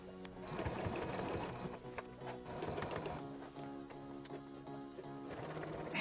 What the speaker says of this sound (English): Then I'll sew them down, and I'm going to make sure I go forward and backward on that first seam to make sure that they stay nice and secure.